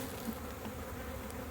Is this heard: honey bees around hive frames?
yes